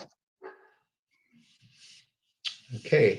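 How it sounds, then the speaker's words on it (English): A few short dog barks break out near the end, fairly close, after a brief spoken word and some quiet shuffling. "Excuse the barking in the background"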